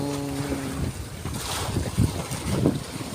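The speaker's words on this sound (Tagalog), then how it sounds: "medyo may kasungitan yung alon na dito sa Wisconsin Sea" Rough waves and gusting wind on open sea seen from a small fishing boat, a steady rushing roar with heavier splashing surges, a brief engine-like hum fading out at the start.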